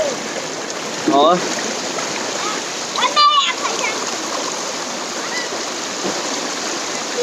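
Water in a jungle stream splashing as people bathe, a constant close rushing flow with a couple of louder splashes, while voices talk over it.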